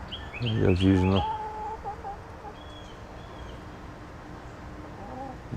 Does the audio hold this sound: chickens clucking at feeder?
yes